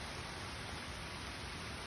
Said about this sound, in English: Yeah, you can see the rain. You can hear it.